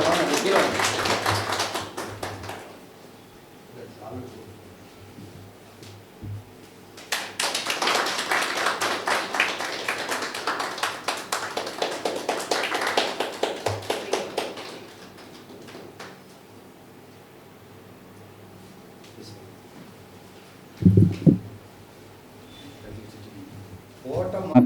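A seminar audience at an astrology gathering breaks into applause twice: a short burst of clapping, then a longer, fuller round of many hands. Quieter room noise and a few taps fill the gaps.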